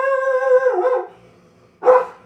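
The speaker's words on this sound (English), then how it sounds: "remind myself I have a dog." A dog indoors at night gives a drawn-out, whining bark that falls away, followed after a short pause by one more sharp, loud bark, both close by and with no talking.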